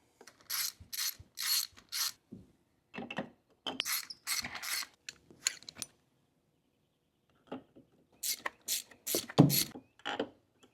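A ratchet works spark plugs loose from an engine: close, crisp clicking bursts in short groups separated by quiet pauses.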